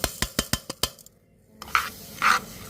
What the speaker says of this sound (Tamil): நம்ம எடுத்து வச்சுருந்த எள்ளை நல்லா ஃப்ரை பண்ணிப்போம்.